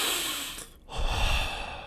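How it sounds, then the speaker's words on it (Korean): A creepy heavy-breathing sound effect plays up close: a long, rough breathy exhale, a brief pause, then a louder, raspier breath. "갑자기 뒤에서 끈적한 숨소리가 들립니다"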